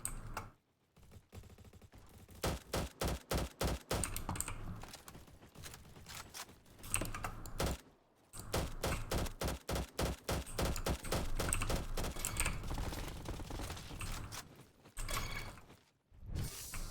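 Rapid gunfire from a burst weapon in the Roblox game Bad Business, repeated tight volleys of sharp shots in quick rhythmic runs separated by brief pauses, loud and close with mechanical clatter.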